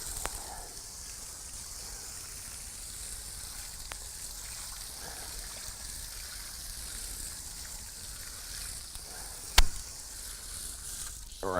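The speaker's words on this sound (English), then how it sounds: "take the hose and rinse all this off." Water from a hose washing over an aluminum wheel on a Jeep WJ Grand Cherokee, a steady soft hiss and trickle running throughout, with one brief sharp tick near the end.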